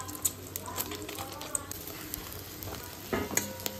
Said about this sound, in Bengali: হয়ে গেল ডিম ভাজা।